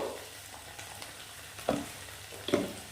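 Ginger garlic paste with turmeric powder frying in oil in a pan, a soft steady sizzle close by, with a few sharper crackles and spatters near the end and no talking.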